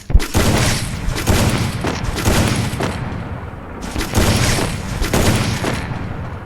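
Dense bursts of gunfire from the mobile game Free Fire, loud booming shots in rapid succession with a short gap before another sustained volley.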